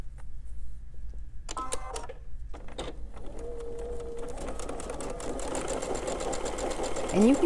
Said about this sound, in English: I'm going to sew my two rectangles together.